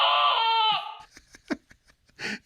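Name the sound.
sheep scream sound effect from Lionel toy train car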